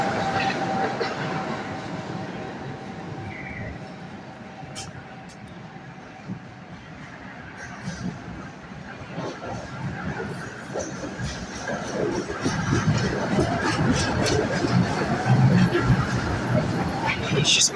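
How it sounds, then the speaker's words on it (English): Trams pass one after another on a Sofia street, rumbling and clattering over rail joints with a steady rolling roar that builds louder toward the end, with someone talking over it. "So anyway, this makes 4 trams total. One after another."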